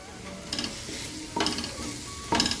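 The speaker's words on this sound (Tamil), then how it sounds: "இது நல்லா வதங்கட்டும்" Food sautés in a pan while rajma is cooked, a soft continuous sizzle broken by three brief stirring scrapes at regular intervals.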